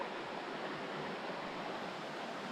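Opalescent River rushing at a river crossing in the Adirondack High Peaks, a steady broadband wash of flowing water, fairly faint and constant throughout.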